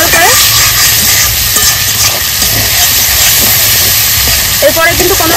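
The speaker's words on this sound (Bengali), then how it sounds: "দিয়ে দেবো আদা বাটা, জিরা বাটা, ধনে বাটা। ভালো করে একটু নেড়ে চেড়ে নেব সুন্দর করে।" A spoon stirs ginger, cumin and coriander paste frying in a pan, with a loud, steady sizzle and hiss and faint scraping throughout.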